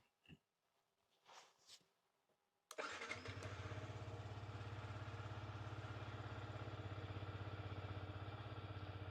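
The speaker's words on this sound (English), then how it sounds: "Let's start the bike." A motorcycle engine cranks briefly and catches, then settles into a steady, loud, close idle, following a few faint handling noises in a quiet garage-like space during a heated grip installation.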